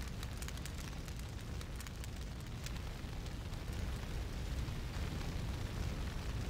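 Raging fire roaring in the video game Breath of Fire 4, a steady dense crackling rumble with faint bursts and pops, continuous and even throughout with no voices.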